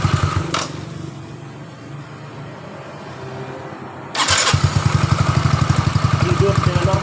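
A Yamaha Mio Soul GT fuel-injected scooter with an electric starter, quiet at first with a voice speaking, then the engine catches and settles into a steady, close, rhythmic idle.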